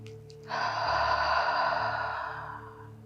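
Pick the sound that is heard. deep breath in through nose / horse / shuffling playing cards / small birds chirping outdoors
deep breath in through nose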